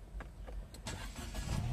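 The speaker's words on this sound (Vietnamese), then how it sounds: "Bây giờ em sẽ đè nổ con này lên. À, đè nổ ra, ấn nút đè nổ đây." A BAIC Q turbo car is started with its push button: a few faint, brief clicks and a short crank, then the engine settles into a low, quiet idle.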